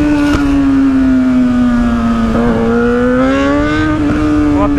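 A loud Suzuki SRAD 750 motorcycle engine drones close by with a steady rumble, its pitch dipping and rising as the throttle is worked.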